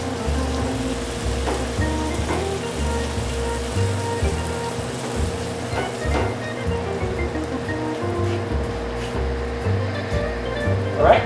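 Water goes into a simmering Spam dish in a pan, giving a steady hissing, bubbling wash of sound that stays fairly loud throughout, with occasional sharper splashes.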